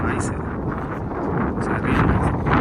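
Strong wind buffets an outdoor microphone in a steady, loud, low roaring rumble that swells and eases slightly over a couple of seconds, with no clear voices.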